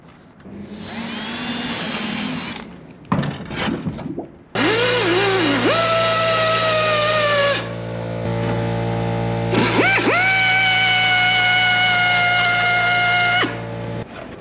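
A power tool with a sanding disc whines loudly in several long runs on carbon fiber panel edges, its pitch sliding as it bites and spins down, with brief pauses between bursts.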